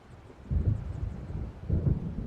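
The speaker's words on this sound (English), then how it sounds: "It seems there's a storm coming." Distant thunder from an approaching storm in the Alan Wake video game, two low, soft rumbles that swell and fade under a windy hush.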